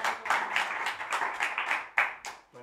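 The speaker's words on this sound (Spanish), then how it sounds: "Un aplauso para Tomás." A small audience at a live trio performance gives a brief burst of clapping, a few distinct hands beating in quick, uneven bursts before fading out.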